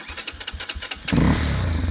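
The starter of a Shineray Tricker 250 motorcycle cranks in rapid rhythmic pulses for about a second before the engine catches and settles into a loud, steady running drone, close by.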